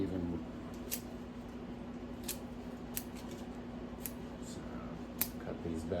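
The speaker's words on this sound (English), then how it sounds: "Kind of cut off some of these big leaves" Scissors snipping big leaves off an avocado plant, a series of sharp, close cuts spaced across a quiet background while a person talks.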